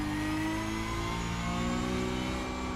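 Porsche Cup race car in iRacing with its engine revving continuously, a loud, steady mechanical roar with rising harmonic tones as it pulls through the gears, no talk over it.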